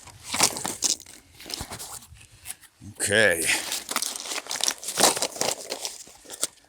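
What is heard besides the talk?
box of shotgun shells dumped into upland hunting vest pocket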